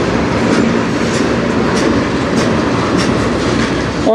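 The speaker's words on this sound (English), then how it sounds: "I don't know what train this is." A CN freight train passing on the Strathroy Subdivision, loud and close, with a continuous heavy rumble and a rhythmic clickety-clack of wheels over rail joints, and a brief squeal near the end.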